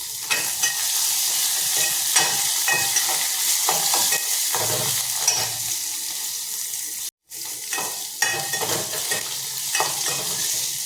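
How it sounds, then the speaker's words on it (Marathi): Garlic, green chili and curry leaves drop into hot oil already holding mustard and cumin seeds for Maharashtrian buttermilk kadhi, giving a loud, steady sizzle with scraping stirs throughout and one brief silent gap. "जिरं घालायचं आहे त्यानंतर लसूण आणि मिरची आणि कढीपत्ता एकदमच टाकायचं आहे"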